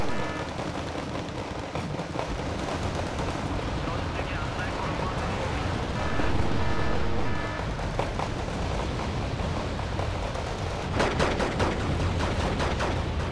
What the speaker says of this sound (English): Come on, tank, fire.